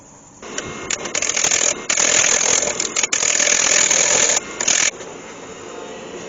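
A wood lathe turns a cedar and resin honeycomb bowl, the gouge cutting in loud, rough, scraping bursts over a steady machine hum, with no one talking.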